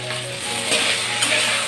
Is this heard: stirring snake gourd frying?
yes